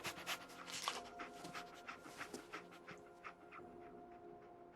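Dogmeat, the dog companion in Fallout 4, pants in quick rhythmic breaths with faint whimpery edges, close but quiet, fading slightly toward the end with no speech over it.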